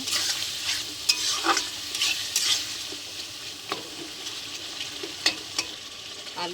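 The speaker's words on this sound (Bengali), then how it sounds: "টক দইটা দিয়ে দিলাম। ভালো করে আরেকটু কষিয়ে নেব।" Spice masala with sour curd stir-fried for aloo dum, a steady close sizzle with repeated scraping strokes of a spatula against the pan, no voices.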